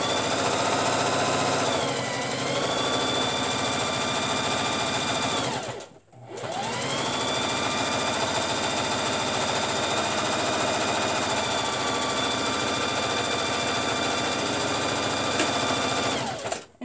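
A sewing machine stitches through the layers of a tote bag with slot pockets, running as a steady close whirring drone for about five seconds, pausing briefly, then running again continuously for around ten seconds before stopping.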